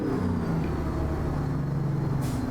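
A Kenworth W900 truck engine with a 13-speed transmission drones in American Truck Simulator during a downshift. Its steady, close, low rumble shifts slightly in pitch as the gear changes.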